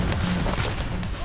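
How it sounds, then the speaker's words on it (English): Rapid gunfire from the video game Payday: The Heist, a dense burst of overlapping shots in a firefight, loud and close. "Right into the gunfire."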